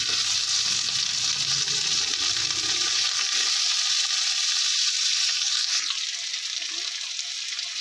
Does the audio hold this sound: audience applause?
no